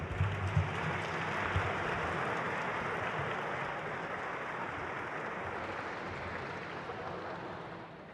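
Applause for an honoree at a health ceremony, a sustained crowd clapping that is faint and distant, fading slightly toward the end.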